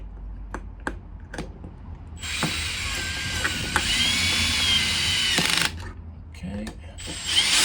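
A power drill/driver set to its lowest torque tightening inverter and battery connections: a few mechanical clicks, then a few seconds of continuous motor whine with ratcheting clutch slips, stopping and briefly restarting, nearby and fairly loud.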